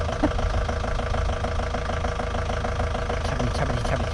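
A Fiat Scudo van's engine idles running tractor-grade 20W-50 oil, a loud steady diesel thrum laced with a fast metallic tappet rattle, continuous and close, with no speech.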